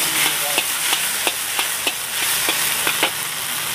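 Fried rice with black pepper sauce being stir-fried in a street food stall wok, a constant sizzle broken by about a dozen sharp, evenly spaced scraping clanks of the spatula, close and alone.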